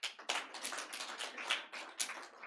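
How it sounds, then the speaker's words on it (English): A small group of audience members clapping at a capacity-building session on SPS standards, sparse, uneven claps in short bursts, fairly quiet and close. "Good clap, actually."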